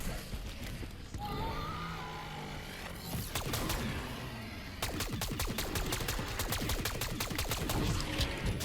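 Rapid semi-auto weapon gunfire in Black Ops 6, with bursts of sharp repeated shots over a constant bed of game noise. The shots come faster and denser in the second half, loud and close.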